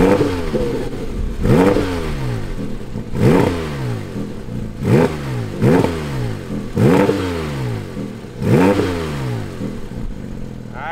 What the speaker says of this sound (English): Let's fire it up and hear what that flat six sounds like.